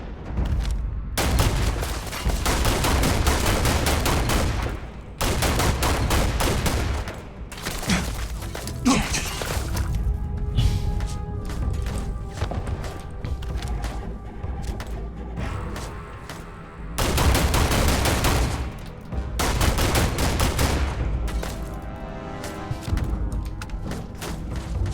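Bursts of rapid gunfire in a No Man's Skyrim space-cowboy game, loud volleys of shots broken by short pauses, with sharp cracks and thuds between the bursts.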